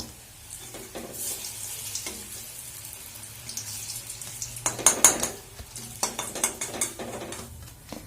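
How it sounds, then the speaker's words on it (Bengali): Spinach and gram flour fritters are lightly fried in oil in a pan, giving a soft sizzle broken by a run of close scraping and clinking turns of a utensil in the second half. "তো এবার আমি এগুলোকে এলে ভেজে নেব, হালকা করে ভাজবো এগুলো, কিন্তু বেশি ভাজবো না।"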